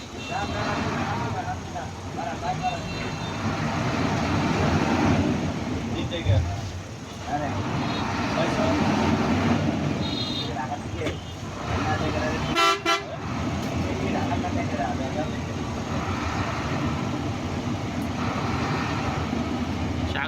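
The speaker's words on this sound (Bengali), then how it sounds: "আমাদের বাসটি এইমাত্র কলাপাড়া বাস স্ট্যান্ড থেকে ঢাকার উদ্দেশ্যে ছেড়ে দিয়েছে।" A bus pulls out of Kalapara bus stand onto the road toward Dhaka, its engine and road noise droning steadily while horns toot several times, with a sharp burst of noise near the middle.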